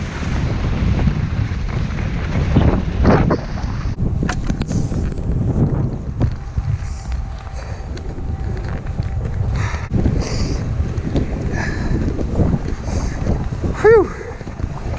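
Strong gusting wind buffets the microphone on a ski slope at Gunstock on a spring day, a loud rushing roar that rises and falls, with brief exclamations from a skier over it.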